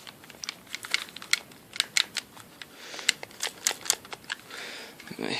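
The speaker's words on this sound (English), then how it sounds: "it's still kind of clicky on the buttons here" Plastic buttons on an SNES controller clicking in quick, irregular bursts, close and fairly faint, with a light rattle and no talking.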